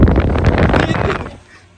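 Strong wind gusts straight into the microphone on a trip to Prince Edward Island, a loud, rough low buffeting that fills most of the moment, then drops away near the end.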